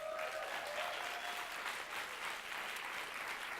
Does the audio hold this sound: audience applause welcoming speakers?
yes